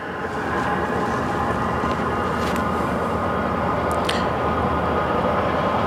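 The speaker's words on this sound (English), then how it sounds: "we have a train going by." A train passes at a distance as a steady, broad rumble that holds for several seconds, with a couple of brief higher squeals or clanks on top, heard while stepping back from a running diesel trailer heater.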